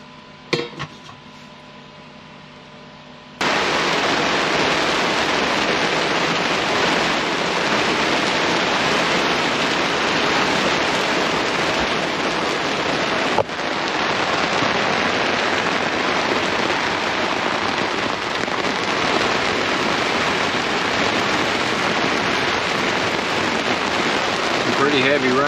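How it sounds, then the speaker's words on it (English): Heavy rain pounds a truck during solo camping, a dense steady roar that starts abruptly after a few quiet seconds of faint clinking and holds loud and unbroken to the end. "Pretty heavy rain."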